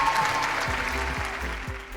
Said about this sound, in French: Encore une fois, on peut les applaudir encore.